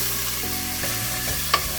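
Cleaned prawns sizzling in a pan as wine is poured in for a scampi risotto sauce, with a strong steady hiss, bubbling shifts and a single sharp clink near the end.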